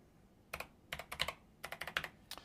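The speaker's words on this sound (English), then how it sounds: "Unless you can somehow figure out the sound from the keyboard" Quick bursts of computer keyboard typing while entering a password during Raspberry Pi 5 setup, close and fairly quiet, in several short clusters of keystrokes separated by brief pauses.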